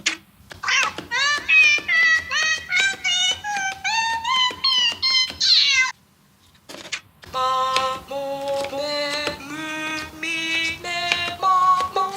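Cat piano mode of the Nintendo Labo cardboard piano on the Switch, playing a rapid run of pitched meows, one note after another, loud and close. A short pause splits it, then a second run of sustained meowing notes follows. No one talks.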